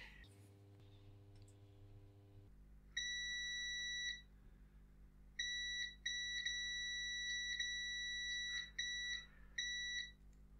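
A multimeter in continuity mode, probing a circuit board in an Nvidia SHIELD remote, gives bright electronic beeps, one sustained tone then several repeated on-off beeps of varying length over a low steady hum, close and with no speech.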